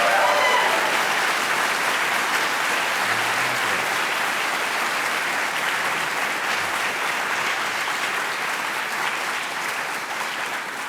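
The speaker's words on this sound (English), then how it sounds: "if we could give sort of a collective round of applause for the people who are" A conference audience applauds volunteers in a sustained, even round of clapping that fills the room and tapers only slightly toward the end, with no talking over it.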